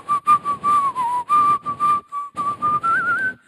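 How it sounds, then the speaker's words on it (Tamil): A pressure cooker on a home stove lets out a loud, steady whistle for about three seconds, its pitch wavering and rising toward the end, with brief stutters as steam bursts through the valve. "3 விசில் வந்தோடனே இறக்கி வைக்க சொல்லுவாங்க எங்க வீட்டுல."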